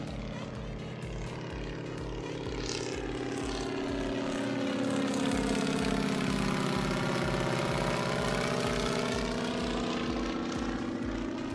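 A small propeller airplane at a local private airport drones steadily throughout, its engine tone swelling louder and shifting in pitch as it passes fairly close, with no talking.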